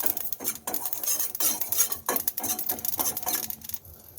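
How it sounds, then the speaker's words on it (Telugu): Cumin, fenugreek and sesame seeds frying in a pan, heard as dense rapid crackling and sizzling with scattered metallic scrapes of a spoon against the pan, close and steady throughout. "జీలకర్ర, మెంతులు, నువ్వులు వేసేసుకొని కొంచెం పండుగ వేయించుకోవాలి"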